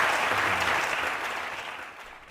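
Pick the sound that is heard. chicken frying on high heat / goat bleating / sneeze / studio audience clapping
studio audience clapping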